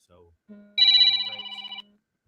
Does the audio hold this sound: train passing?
no